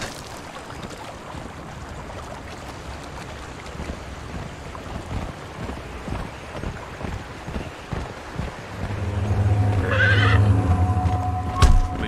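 Horse neighing and galloping in the video game Conan Exiles, with steady hoofbeats running throughout and a loud, drawn-out whinny rising near the end over a low rumble.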